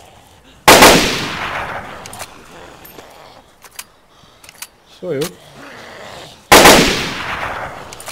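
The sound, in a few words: gunshots in the video game DayZ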